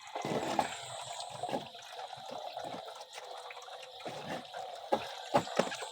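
Weak stream of water running into a bath, a thin trickle and splashing close by, with intermittent drips and gurgles rising and falling unevenly throughout.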